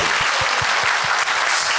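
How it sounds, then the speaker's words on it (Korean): A church congregation applauds in a dense, continuous wash of clapping, loud and steady throughout, with a low rhythmic thumping underneath. "우리 격려의 박수 한번 드리겠습니다"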